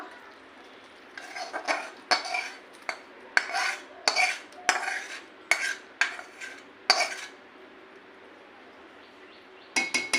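Tiger prawns are stirred with onion, mustard paste and green chillies in a metal pan, giving a run of sharp spoon-on-pan scrapes and clinks in uneven bursts, with a pause before a final few strokes.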